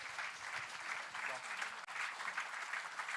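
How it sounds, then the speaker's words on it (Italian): An audience claps steadily at a live anniversary festival in Cagliari, Sardinia, a dense, even wash of applause that runs through the whole short stretch with barely a dip. "fatemi un applauso"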